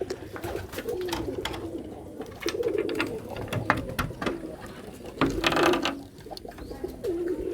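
Wild jalali pigeons in a loft coo repeatedly at close range, their soft throaty calls layered over faint mechanical clicks and rustling.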